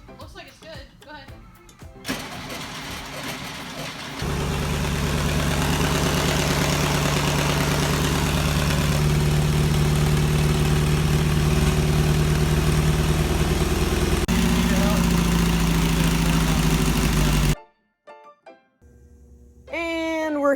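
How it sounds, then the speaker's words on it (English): A Subaru Baja engine cranks and catches, then runs at a steady, loud idle for about thirteen seconds before cutting out abruptly, with voices talking before the start and after it dies. "So the Baja did run for like all of 10 seconds."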